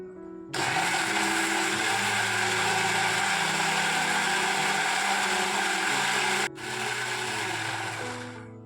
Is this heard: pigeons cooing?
no